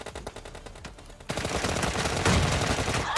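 Automatic gunfire in the mobile battle-royale game PUBG Mobile: a rattling stream of close shots that pauses briefly, then comes back louder and more continuous, with no voice over it.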